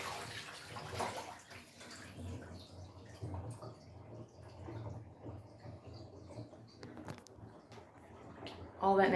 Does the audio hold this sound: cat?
no